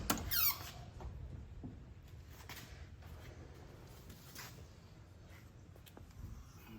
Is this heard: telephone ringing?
no